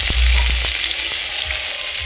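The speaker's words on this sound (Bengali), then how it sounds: "এবারে আমি আলুগুলো ভেজে নেব" Washed potatoes fry in hot oil in a wok, giving a loud, steady sizzle with a few low thuds at the start and no voices.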